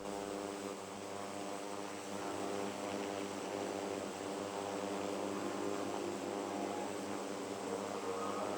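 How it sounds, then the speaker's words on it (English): Steady drone of an airliner's engines in the flight simulator game Infinite Flight, heard during a climb over Africa: a constant, moderately loud hum that holds unchanged from start to finish with no voices. "You fell asleep and I woke you up with the engine sound?"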